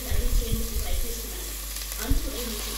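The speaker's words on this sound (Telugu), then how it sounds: "నీట్గా కడిగి పెట్టుకున్న చికెన్ని అందులోకి యాడ్ చేయండి" Washed chicken pieces tipped into ginger garlic paste frying in a pan, setting off a steady sizzle with low thumps and stirring knocks near the start and again briefly later.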